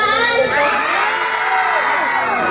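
A crowd of young people at a live event shouts and cheers loudly, a dense, sustained roar of many high excited voices and whoops throughout.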